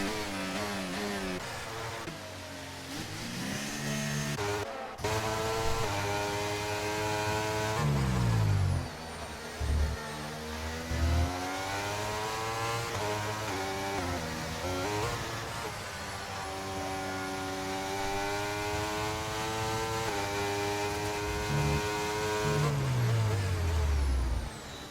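Sim racing cars at the Austria circuit slowing into the pit lane, engines droning with rising and falling harmonic whines, gear shifts and revs shifting tone over about twenty-five seconds, steady and fairly close.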